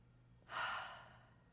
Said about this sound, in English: And take a breath.